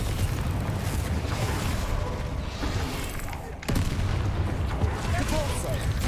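Spell explosions from Confringo in the Hogwarts Legacy video game, a dense continuous barrage of booming blasts and crackling impacts, with a sharp louder burst partway through, sitting close and loud under a busy game soundscape.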